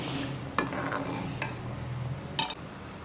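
Plum chutney stirred in a pan as it cooks, with a few scraping spoon knocks against the pot over a low steady simmer, no voices.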